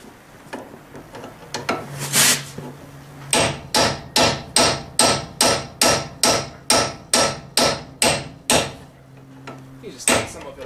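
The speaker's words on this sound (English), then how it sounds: "Let me get to pounding that out." Repeated hammer blows knock out a ball joint on a Chevrolet Tahoe's upper control arm, metal striking metal. About fifteen sharp, evenly spaced ringing strikes follow a scrape and a few earlier knocks, close and loud.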